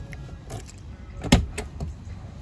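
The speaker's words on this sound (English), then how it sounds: "we just put the key in the lock here, turn it to the right, and that locks the door" A key turns in the door lock of a 2022 Citroen Ami, giving a few soft metallic scrapes and then one sharp, loud clunk as the lock engages, with quieter clicks afterward and no talk.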